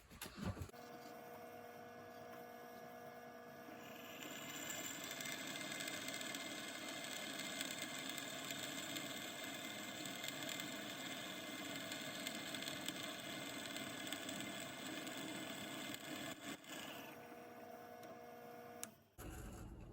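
Drill press boring a hole for a tap and bolt, a steady motor whine with a rising cutting tone in the middle, quiet and continuous, ending with a brief clunk.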